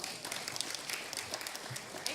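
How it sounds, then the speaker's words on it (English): Applause from a church congregation, a brief burst of many hands clapping, steady and moderately loud with scattered sharper claps on top. "So give her a round of applause."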